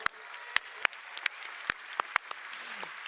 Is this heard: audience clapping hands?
yes